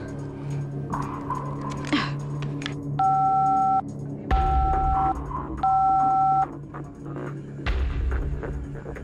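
Touch-tone telephone keypad beeps in an Indonesian soap opera scene, three sustained dual-tone presses at an even rhythm, clear and close over a low background hum.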